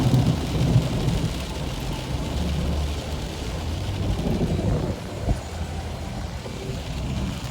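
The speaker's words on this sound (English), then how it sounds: "this is what has happened with the rain" Heavy rain pours steadily at close range, with low thunder rumbling and passing traffic mixed into a dense, continuous roar; no one speaks.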